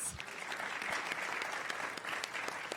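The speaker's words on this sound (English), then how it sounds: "A round of applause to our panelists" An audience at an education and employment forum applauds the panelists, a thick, continuous burst of many hands clapping from start to finish in a large room.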